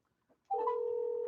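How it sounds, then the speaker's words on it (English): A telephone tone sounds as a call connects, a short blip then a steady sustained tone, clear and close. "We're getting Matt on the phone here"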